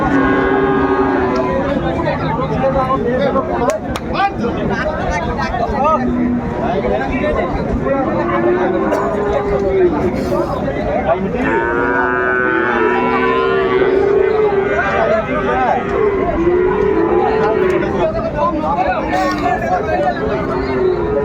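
At a Dinajpur cattle market where Sahiwal bulls are traded, several low moos recur through a constant crowd babble, with nearby people talking throughout.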